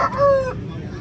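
A long-legged Aseel rooster crows once at a busy poultry market, a short, fairly loud drawn-out call that fades into background market noise.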